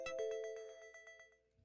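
A TikTok live notification alert chimes in a quick series of bright, ringing tones that repeat rhythmically and fade out over a second and a half, alone without talk.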